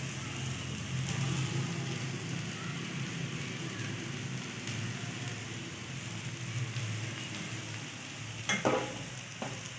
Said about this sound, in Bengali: এটাকে ভালোভাবে ভাজতে হবে।